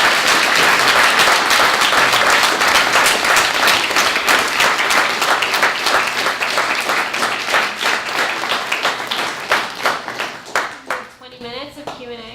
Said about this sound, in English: hand of applause for our panel